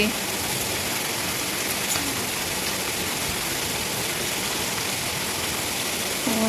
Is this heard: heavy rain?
yes